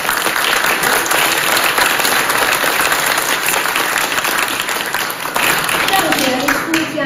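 A hall audience at a Buddhist dharma lecture breaks into loud, sustained applause for the event organizers, thick continuous clapping that holds steady for several seconds before easing slightly near the end.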